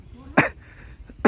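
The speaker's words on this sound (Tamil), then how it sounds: "பாருங்க, குளிருக்கு இருமல்." A person coughs twice from the cold, with two short, sharp bursts about a second apart, heard outdoors at dusk in Ooty near a railway track with faint background noise between them.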